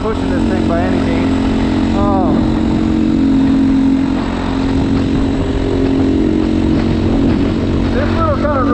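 A GPX Moto FSE300R dual sport motorcycle on off-road tires cruises on pavement, its engine droning steadily and loudly throughout with a rising and falling pitch, while a rider talks over it.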